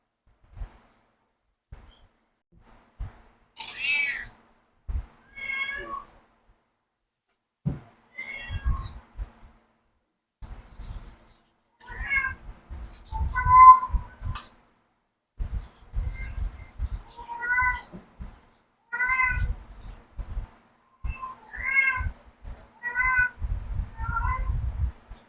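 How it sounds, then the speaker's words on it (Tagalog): Pet cat meowing repeatedly at close range in a home kitchen, a string of short and drawn-out meows with pauses between, plus a few soft thumps and light background noises. "Sumasagot yung pusa namin."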